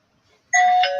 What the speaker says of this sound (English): some doorbells ringing.